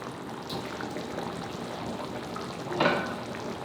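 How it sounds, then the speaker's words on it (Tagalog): Dinuguan, a pork blood stew, bubbles at a steady boil in a pot, a close, soft, continuous simmering hiss with small bursts of bubbling and one brief louder swell near the end. "At yan, kulong-kulo na."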